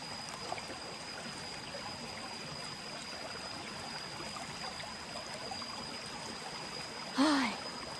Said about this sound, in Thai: ถ้าทุกคนไปน้ำตกเอราวันนะก็น้ำตกเอราวันกาญจนบุรีนะ